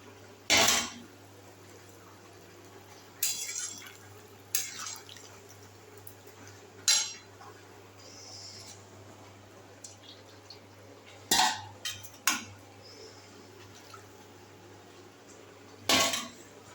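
Metal pot being handled while cooked rice is taken off an induction cooktop in a home kitchen, a few sharp clanks and scrapes spread out at intervals over a steady low hum.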